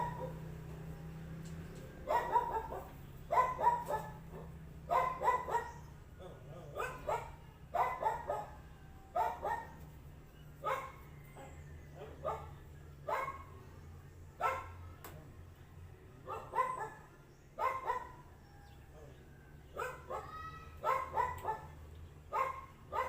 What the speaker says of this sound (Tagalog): Pasensya na, may aso.